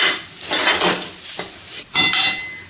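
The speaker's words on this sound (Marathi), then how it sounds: "रस्सम बनवताना जर सांबर मसाला वापरला तर खूप छान टेस्ट येते आणि आपलं रस्सम खूप असं मस्त लागतं खायला व्यवस्थित मिक्स करून घ्यायचे" A rasam masala mix stirred in a metal pot, heard as loud, close scraping and clattering of a spoon in bursts, with a soft sizzle between strokes.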